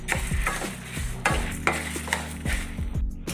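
Spices and curry leaves are stirred and fried in a pan for Mangalore-style horse gram chutney. A steady sizzle runs under repeated scraping strokes of a spoon against the pan, close up, with no talking.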